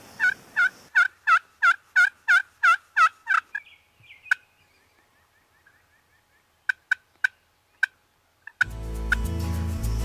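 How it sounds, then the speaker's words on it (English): Wild turkeys gobble outdoors, a near, loud run of rapid rhythmic calls at first, then quieter distant clucks and yelps in a short series before a burst of noise at the end. "There was some gobbling in front of us, there was some gobbling behind us."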